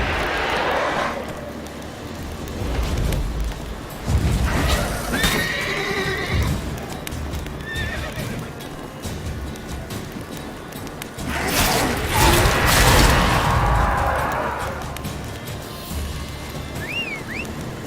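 A horse in The Witcher video game neighs and whinnies several times among galloping hoofbeats and clip-clops, loud and close.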